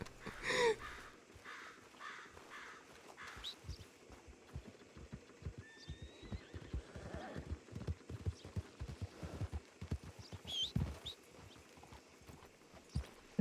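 Game horse in a WildRP western roleplay clip-clopping at a walk, a steady close rhythm of hoof falls on hard ground with crows cawing faintly in the background.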